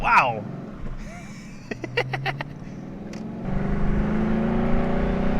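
A 2012 Ford Mustang Boss 302 engine surges and accelerates, loud and close, its deep note building steadily to the end after a short exclamation and a few sharp clicks.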